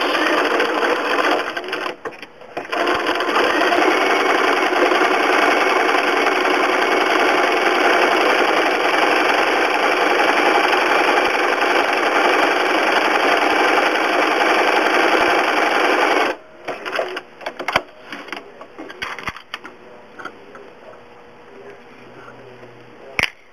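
A sewing machine runs a continuous straight stitch around appliqué eye details, a steady loud mechanical whir for about sixteen seconds before it stops, followed by faint handling clicks and rustles.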